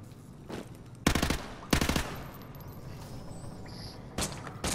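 Loud bursts of automatic gunfire from a gun in Modern Warfare 2 Remastered, in two sharp volleys and a later shorter burst, over a constant game background.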